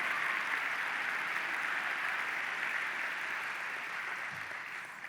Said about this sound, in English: I want to give her a round of applause right now.